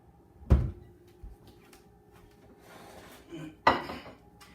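A plate handled in a home kitchen while quesadillas cook: two sharp ceramic clatters a few seconds apart, with softer rubbing and knocking between them, close and fairly loud, no talking.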